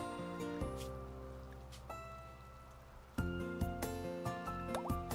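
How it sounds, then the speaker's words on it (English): Rain falling in the video game RimWorld, a steady patter and drip bed sitting low under loud tonal game music and effects, with no talk over it. "It started raining the day of the child's birth."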